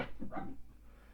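Dogs bark in the background of an indoor card game session, a couple of short muffled barks near the start followed by quiet room tone.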